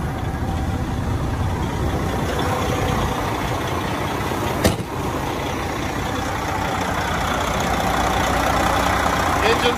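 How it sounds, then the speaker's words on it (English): A 2006 Freightliner Columbia 120 diesel truck engine idles steadily with a low, continuous rumble, close by, with a brief clank partway through. "Engine's running excellent."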